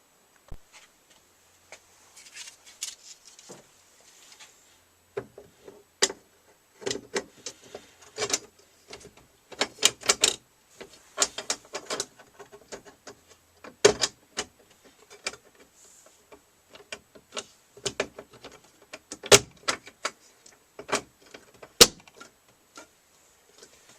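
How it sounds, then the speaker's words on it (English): Bolts and a metal hinge bracket being fitted into a Glowforge laser cutter, giving scattered sharp clicks and taps with short clusters of ticking, close by and fairly quiet, with no talking. "take the bracket here and move it into the machine and bolt it back into the machine"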